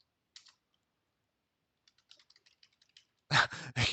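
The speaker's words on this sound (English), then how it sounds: "I'm pushing random hotkeys." Random hotkeys pressed on a computer keyboard during an esports match broadcast, a few quiet isolated clicks followed by a quick cluster of light taps, then a voice talking at the end.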